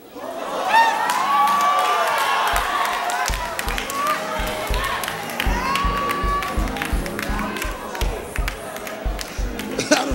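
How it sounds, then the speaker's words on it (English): Church congregation at a prophetic revival service screaming and cheering, a loud continuous crowd roar with shouts and claps throughout. "I don't know what y'all be screaming."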